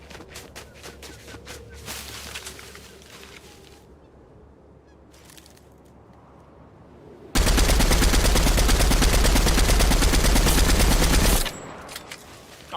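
Video-game gunfire starts with scattered shots and clicks, then a loud, dense, continuous volley runs for about four seconds before cutting off sharply.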